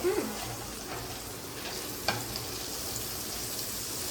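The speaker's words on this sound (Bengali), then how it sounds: "লাল লাল করে ভেজে নিক আলু" Potatoes frying in oil in a pan for a country chicken curry, a constant close sizzle with a faint stir or scrape now and then.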